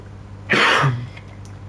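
A single sharp, throaty cough bursts out during a casual podcast recording, rising suddenly from a quiet background and fading within half a second.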